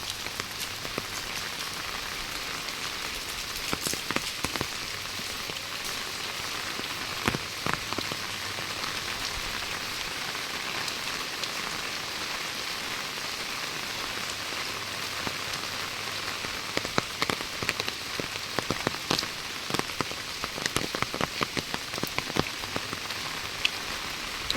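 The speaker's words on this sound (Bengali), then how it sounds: "হট করে বৃষ্টি নেমে" A sudden downpour drums steadily on surfaces outdoors on a morning that had been clear, a dense continuous patter with occasional louder drips and splashes throughout, no voices.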